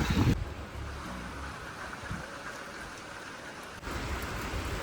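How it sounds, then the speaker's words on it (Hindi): Heavy rain with big drops falls steadily and loudly on an outdoor surface in a hill village, a continuous close drumming roar with light wind noise and no talking. "ये देखो बारिश से कितनी मोटी मोटी बूंदे आ रही है"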